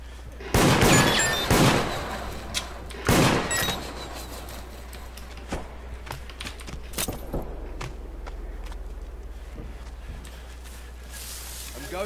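Gunfire in the multiplayer horror game Deceit, a few loud bursts of shots early on, then scattered fainter pops and footsteps under occasional voice chat.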